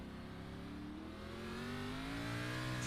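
A race car engine in a virtual racing game at Circuit of the Americas revs loud and steady, its pitch climbing smoothly under hard throttle as it accelerates.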